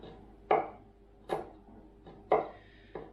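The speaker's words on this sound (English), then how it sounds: "I always give them a rough chop first and then just run my knife through." A knife chops garlic on a cutting board with four sharp, separate knocks at uneven intervals. The chops are close and clear, with no talking.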